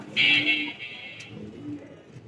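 A pair of pigeons perched on a clay pot coos close by, one low soft call early and another fainter one later, over light background murmur.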